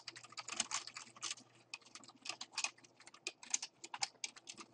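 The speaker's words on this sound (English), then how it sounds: "Wow, if I can type." Computer keyboard typing during a programming session, rapid irregular clicks in quick bursts, close and fairly quiet, with no voices.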